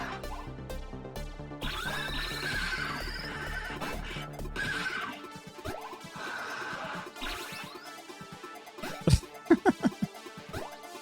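Roach the horse, running in a video game, lets out a loud neigh early on, followed by galloping hoofbeats that turn into sharp, heavy clops near the end, over a musical game backdrop.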